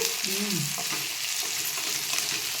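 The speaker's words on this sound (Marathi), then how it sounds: "फोडणी तिलेच खमंग आली बाय आता एकदम सुगंध सुटला फोडणीचा" Spice tempering sizzles steadily in hot oil in a pan for a village-style brinjal curry, a continuous close hiss with brief stirring under it and no talk.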